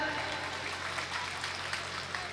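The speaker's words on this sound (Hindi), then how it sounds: "इनके लिए ताली वाली बजा दो यार" Audience applause at a live kavi sammelan comedy poetry event in Kishangarh Renwal: a steady, dense patter of clapping hands, fairly faint and distant, continuing evenly without any voices.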